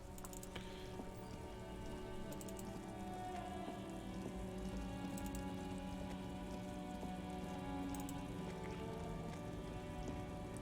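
Steady rain pours down in a detective video game, with the player character stuck in a traffic jam: an even, continuous hiss of falling drops that holds at the same level throughout, with a faint low drone underneath.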